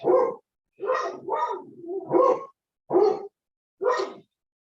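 Nearby dogs bark indoors in a series of about six short, sharp barks with brief pauses between them. No other sound is heard.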